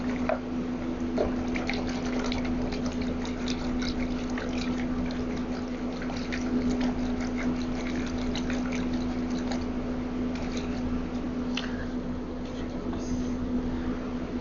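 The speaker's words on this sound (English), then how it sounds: "I just get the bulk of the paint off. In that. And then I give it a rinse." Warm tap water runs steadily into a basin while a paint-covered brush is rinsed, a continuous close wash with faint splashes and trickles throughout.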